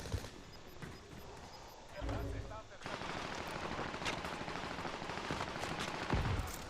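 Rapid bursts of video game gunfire crackle steadily, some shots louder and closer, with a voice talking over the shooting.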